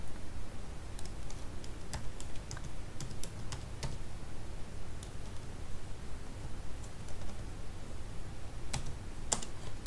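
Steady typing on a computer keyboard while writing a LaTeX document, with close, quiet key clicks in an uneven rhythm and a few sharper taps running throughout, no voice.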